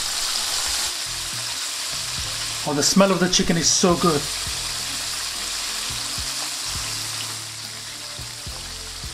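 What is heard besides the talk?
chicken deep frying in oil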